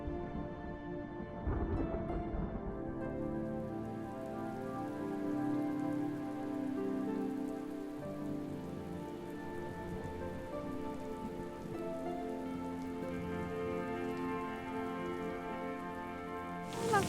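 Rain falling and pattering on a surface, steady and close, layered under sustained musical tones, with no talk.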